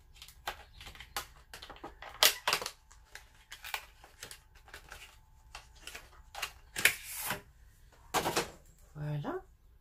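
Packaging of a Huda Beauty cosmetic product being opened, a series of sharp close clicks, crinkles and tearing snaps scattered irregularly over quiet room tone, with a brief voice near the end.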